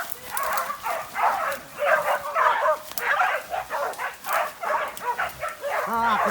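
A dog barks and yips repeatedly in short irregular bursts, close and fairly loud, while people talk over it.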